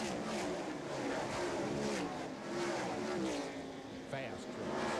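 NASCAR Super Truck Series race trucks in the closing stages of the 1995 Lowe's 150 at North Wilkesboro, a continuous loud roar of engines passing at speed with a commentator talking over it.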